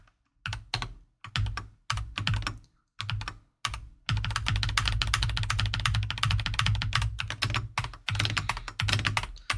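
Fast clicking keystrokes on a computer keyboard, first in short separate bursts, then one continuous stretch of rapid close-up typing with no voices.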